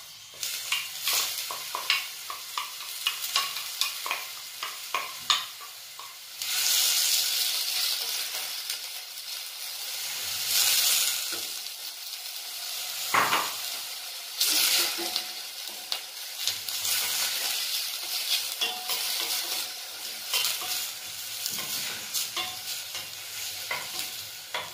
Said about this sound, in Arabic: نضيف عليهم بصلة مشلضة